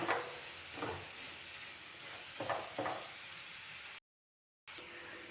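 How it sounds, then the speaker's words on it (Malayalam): Onions with a teaspoon of salt sautéing in a pan for a Kerala-style roast, a steady close sizzle punctuated by several scraping stirs, with a short silent gap before the frying resumes. "ഇനി സവോള ഒന്ന് പെട്ടെന്ന് വഴുന്ന് വരാൻ നമുക്ക് ഒരു ടീസ്പൂൺ ഉപ്പ് ചേർത്ത് കൊടുക്കാം ഇത് അത്യാവശ്യം നന്നായിട്ട് തന്നെ വഴന്ന് വരണം"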